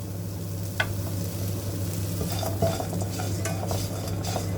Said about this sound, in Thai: นี่เราก็คั่วไปเลยค่ะคั่วให้เขาเข้ากัน ไฟไม่ต้องแรงมากนะคะ